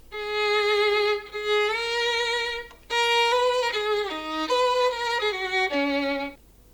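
A sustained melodic synth line run through a stereo spread plugin built on comb filters, giving a hollow, phasey widened tone; several held notes shift pitch in steady phrases, loud and alone with no talk.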